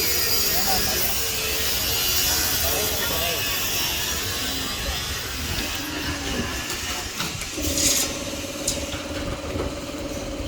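Many ventilation fans running together, a steady broadband whir and hum with some tonal drone, heard over continuous talking throughout.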